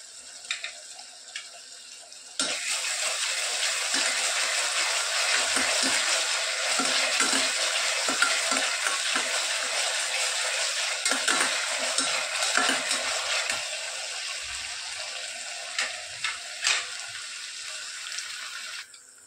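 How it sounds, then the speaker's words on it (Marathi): Ginger garlic paste frying and being stirred in a pan with ghee and spices, a steady broadband sizzle starting after a quiet moment and continuing loudly with scraping stir sounds, no talking. "आलं लसणाची पेस्ट घालते आता. तीही छान परतून घ्यायची."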